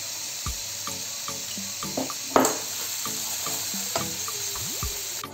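Assorted peppers sizzle and fry in a pan with dry shrimp powder and kebab spices, a steady crackling hiss broken by repeated scraping and stirring clinks of a utensil against the pan.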